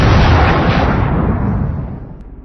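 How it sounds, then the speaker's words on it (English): A single gunshot aimed at a wild boar outdoors booms loudly and decays over about two seconds into a fading rumble, with no talking. "The shot rang out, and the boar collapsed instantly."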